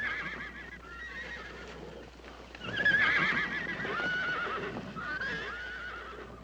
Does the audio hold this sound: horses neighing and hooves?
yes